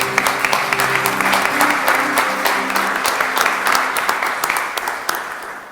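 A church congregation claps together to acclaim the Lord, dense sustained applause that holds for several seconds and then thins slightly, with a faint musical tone beneath and no clear speech.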